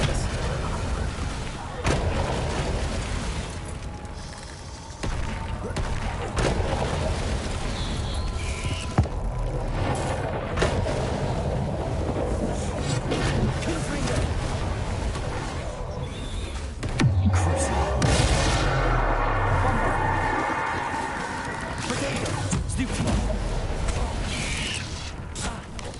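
Fiery Confringo and Bombarda spell blasts in Hogwarts Legacy go off as a string of booming, crackling bursts, with the heaviest low rumble about two thirds of the way through, over steady game ambience.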